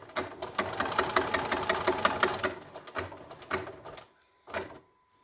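Bernina domestic sewing machine stitching through thick layers of a concealed carry belly band, a fast close rhythmic needle clatter that slows and stutters, stops, then gives one last short burst.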